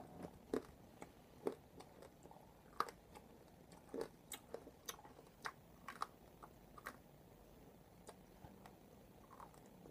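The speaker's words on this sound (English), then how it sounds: "Takes a long time to chew." Very sour, hard-coated candy is chewed slowly and close up, giving irregular sticky crunches and clicks over several seconds against a quiet background.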